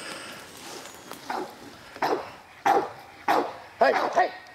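Hunting dogs bark during a hog hunt in Oklahoma, a series of about five loud, spaced barks growing stronger toward the end, heard outdoors at moderate distance with some rustling and talk.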